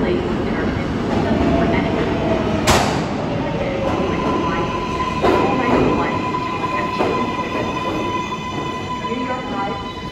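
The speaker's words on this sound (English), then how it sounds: "This is a Bronx bound four express train." A New York City Bronx-bound 4 express subway train runs along with a steady rumble, brief sharp clicks and faint high wheel squeals riding over the noise.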